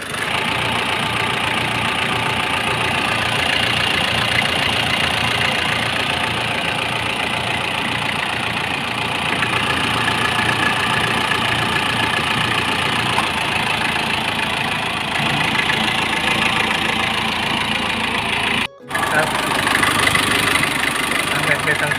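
A Nissan Frontier pickup's CD27 diesel engine idles up close, hot after a long drive, a continuous knocking rumble that holds steady, with a brief dropout near the end.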